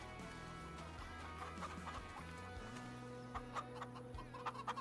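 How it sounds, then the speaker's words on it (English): Chickens cluck in the Farming Simulator 25 farming game, quiet scattered clucks over a low steady game soundtrack, with no talking. "The chickens are, we're full on chickens."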